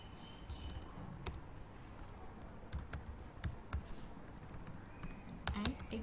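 Typing HTML code on a computer keyboard, a quiet close sequence of irregular key clicks and taps with short pauses, faint room hiss beneath and no talk.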